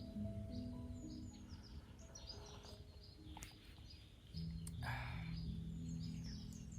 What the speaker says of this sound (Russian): под пение птиц